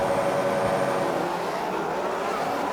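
Formula 1 cars in the F1 23 video game launching off the start line together, a dense sustained roar of engines at full throttle, loud and continuous.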